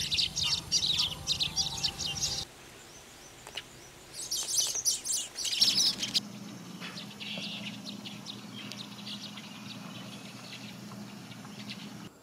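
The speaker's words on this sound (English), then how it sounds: "I found some Asian golden weavers." Asian golden weavers chatter in bursts of high, buzzy chirps at an urban temple canal in Bangkok, loud in two clusters early on, then fading to softer calls over a steady insect-like hiss.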